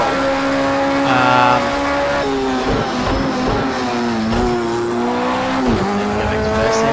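A 2016 LMP1 prototype race car engine in the Project Cars 2 racing game, a loud, steady high-pitched whine that shifts pitch at each gear change, with tyre squeal and skidding mixed in.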